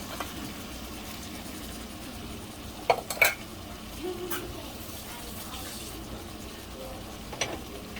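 A spoon scrapes and clinks against a pot as fire roasted tomatoes are stirred into Cajun jambalaya, a few distinct knocks over a quiet low background.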